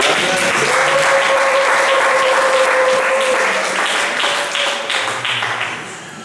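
A church congregation applauds and cheers loudly and steadily, dense clapping filling the space, with a sustained vocal shout riding over it before the ovation slowly tapers toward the end.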